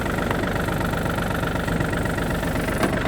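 A Yanmar F215 tractor engine idles with a continuous low, knocking rumble at a steady loud level, with no talk over it.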